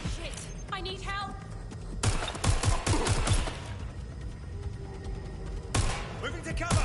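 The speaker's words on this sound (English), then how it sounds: "Shots fired! Shots fired!" Bursts of gunfire in the video game Watch Dogs Legion crackle in rapid volleys, with sharp clusters of shots and a frantic shouting voice mixed in.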